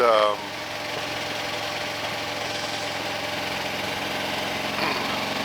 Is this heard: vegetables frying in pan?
no